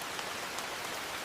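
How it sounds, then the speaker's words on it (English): Rain beginning to fall in a Madagascar lowland forest, a steady broadband patter of drops that stays even and moderately soft throughout, with no voices. "The forest changes quickly, and the first rain begins to fall."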